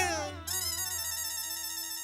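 A melodic mobile phone ringtone plays steadily and fairly loud for about two seconds, its tone shifting slightly at the start, in a scene from the Indian TV comedy Taarak Mehta Ka Ooltah Chashmah, before the call is cut.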